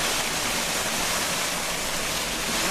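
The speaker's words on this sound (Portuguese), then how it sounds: "Parece ondas, né? Uma cachoeira. Fica assim, esse chiadinho." Simulated tinnitus: a loud, steady broadband hiss like crashing waves or a waterfall, continuous and unchanging from start to finish, with no voices.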